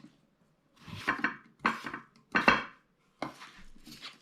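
A knife slicing cucumber into thick pieces on a cutting board, five distinct cuts in an uneven rhythm, close and clear against near silence.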